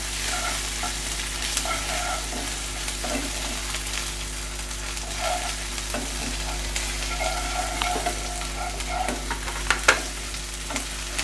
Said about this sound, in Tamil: இந்த இஞ்சி பூண்டு பேஸ்ட் வந்து இந்த ஆனியனோட நல்லா மிக்ஸ் ஆகி வதங்கணும்